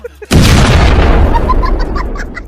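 A gun fires once in a comedy sketch: one sudden loud boom that rolls off into a long, ringing decay, with faint tonal sounds following behind it.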